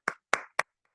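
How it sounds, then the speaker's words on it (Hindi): Three separate hand claps ring out sharply, evenly spaced, followed by a faint fourth tap; isolated and close. "एक बार मैं चाहूंगा उनके लिए जोरदार ताली होनी चाहिए"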